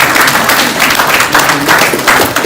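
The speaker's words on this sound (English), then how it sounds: "Can we give a round of applause to this important place?" Loud, dense applause from a large audience at a fintech cybersecurity and fraud summit, continuous clapping filling the whole moment.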